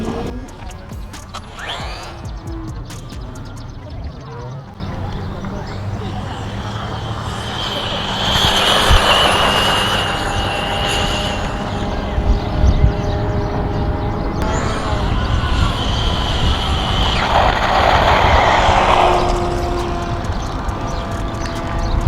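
A WLToys 124016 V2 RC car on a 3s battery with larger wheels runs a fast speed pass, its motor whine rising and falling steadily and loud over about twenty seconds.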